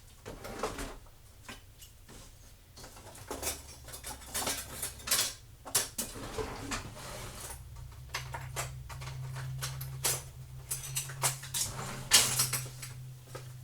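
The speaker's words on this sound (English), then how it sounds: "So we will fill up our jars now." Glass jars being filled with home-cooked bacon bits for canning, with repeated clinks of glass and metal utensils and scraping against the jars at close range throughout, and no talking.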